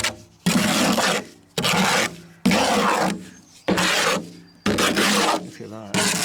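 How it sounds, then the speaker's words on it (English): A trowel scrapes up the last leftover cement while prepping ground for a stile rebuild: about five close, loud rasping strokes in a steady rhythm, with short pauses between them. "I'm just scraping up the last remnants of the cement I've got."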